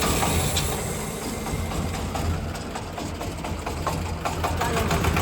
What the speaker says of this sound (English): Start the diesel engine.